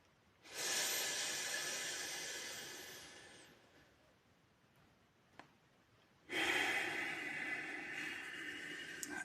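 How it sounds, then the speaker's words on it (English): Deep breathing during a guided breathing exercise: two long, airy rushes of breath, close to the microphone, with a quiet pause between them and no talk. "And then you breathe in."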